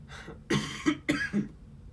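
One person gives a short run of four harsh coughs in quick succession, close and fairly loud, with breath between them.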